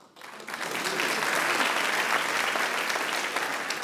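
A cabaret audience claps together on request, applause building quickly after a brief quiet start and holding steady as a dense, even wash of many hands, moderately loud and unaccompanied by talk.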